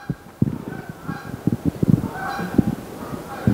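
Geese and other waterfowl honk repeatedly along the Connecticut River, a series of loud, irregular calls close by over steady outdoor background noise.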